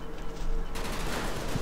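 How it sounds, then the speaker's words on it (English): Gunfire in the World War II game Combat Mission Market Garden crackles as a dense, noisy burst of shots that swells partway through and continues steadily to the end. "we're coming under some sort of fire from somewhere"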